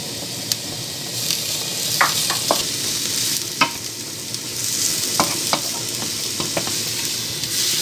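Grated courgette and garlic stirred in a hot frying pan for shrimp spring rolls, a steady oil sizzle broken by repeated scraping strokes of a utensil against the pan, close and clear with no talking.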